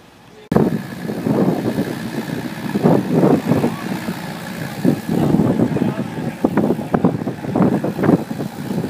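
A Volvo truck engine idles with a steady low rumble that starts abruptly and runs to the end, heard from inside the cab with people talking over it.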